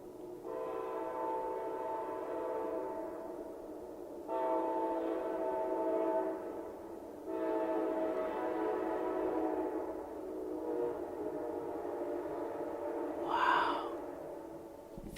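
A train horn played over radio sounds three long, steady blasts separated by short gaps over a low, faint rumble, followed by a brief higher-pitched squeak near the end.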